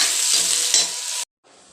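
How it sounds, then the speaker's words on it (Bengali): Onions fry in oil with a ground garam-masala spice paste for a liver bhuna, giving a loud, dense sizzle and stirring noise that cuts off abruptly, then returns more softly. "রান্নাটা শুরু করে দিলাম"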